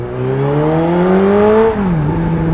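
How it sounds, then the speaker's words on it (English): A Volkswagen GTI accelerates nearby, its engine note climbing steadily in a loud smooth whir before dropping briefly as it shifts, heard from a motorcycle alongside with no talk. "Zoom, zoom. Mr. GTI is getting after it."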